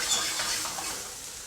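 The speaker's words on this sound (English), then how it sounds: "I'll use my knife here to move that around" Mushrooms are stirred in a frying pan with a knife, giving a soft, continuous sizzle with faint scraping, heard alone and fairly quiet.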